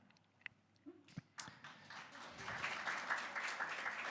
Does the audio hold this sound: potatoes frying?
no